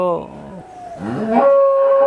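A dairy cow with a young calf moos twice, loud and near: a short low call, then a longer drawn-out moo.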